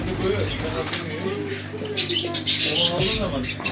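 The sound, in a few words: budgerigars chirping in a pet shop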